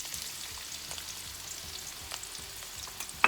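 Chopped onions sizzle and fry in a hot pan over medium-high heat for a vegan pinakbet, a soft steady crackle with occasional stirring clinks and a sharp knock at the end.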